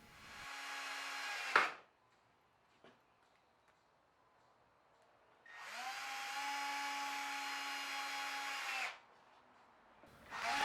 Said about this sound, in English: Screwing things together as I go.